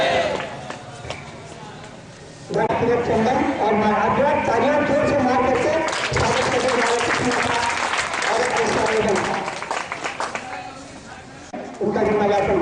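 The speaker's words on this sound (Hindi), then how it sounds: "चंदन और तालियां जोर से मार करके" A crowd at a humanitarian eye-care program with a religious leader breaks into loud, dense clapping after a quiet stretch, dipping briefly near the end before swelling again.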